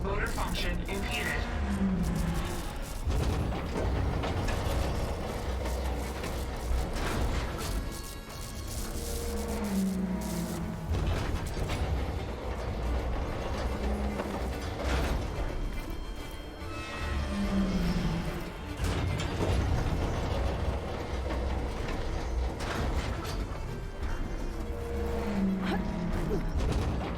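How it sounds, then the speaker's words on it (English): A jammed satellite dish motor mechanism in Horizon Forbidden West grinds and creaks in repeated strained cycles, roughly every eight to ten seconds, under a spoken voice and background game ambience. "Error. Dish alignment incomplete. Motor function impeded."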